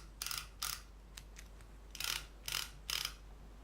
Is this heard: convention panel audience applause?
no